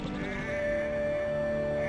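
Lambs bleat in a trailer, several wavering, nasal cries overlapping close by at moderate volume with no talking.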